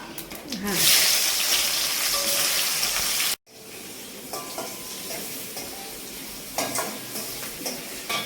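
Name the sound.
onion and spices frying in a pan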